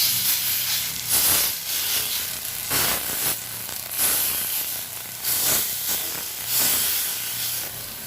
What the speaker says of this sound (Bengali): বড়াগুলো সর্ষের তেলে ভাজবো